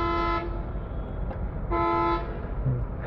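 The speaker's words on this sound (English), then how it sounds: "glorious Sri Lankan traffic where they love their horns here" Car horns honk in busy Sri Lankan road traffic, two long loud blasts separated by a pause, with a shorter toot near the end over a steady rumble of engines.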